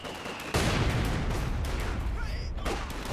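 Mortar and battlefield fire in a Company of Heroes 2 2v2 match, a dense, loud rumble of explosions and gunfire that swells suddenly after a quiet start and carries on continuously.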